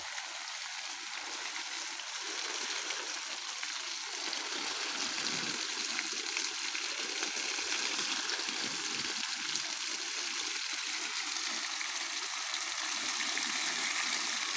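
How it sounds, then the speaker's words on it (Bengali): Water from a mud pump gushes steadily onto garden plants and the base of a coconut tree, a continuous loud rushing splash without pause and no talking. "বৃষ্টি হলেও এত পানি দেওয়া সম্ভব না যেভাবে পানি দিচ্ছি"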